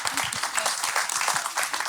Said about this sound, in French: Nolwenn, on applaudit Nolwenn.